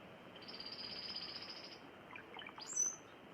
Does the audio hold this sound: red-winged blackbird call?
yes